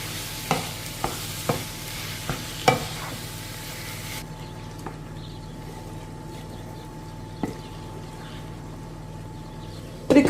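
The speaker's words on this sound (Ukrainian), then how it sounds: "І прожарюю все разом. Файно так перемішую." A spoon scrapes and taps in a pan a few times over a steady, soft sizzle of frying potato and mushroom, with no one talking.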